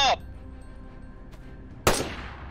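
Two loud gunshots from the DayZ video game, one at the very start and another near the end. Each shot rings out with a long echoing tail, and the space between them is quiet.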